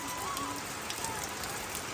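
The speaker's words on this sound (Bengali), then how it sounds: "বৃষ্টি মানেই অন্যরকম ফিল" Steady rain falls on a garden property where water has pooled on the ground, a constant dense patter with no breaks.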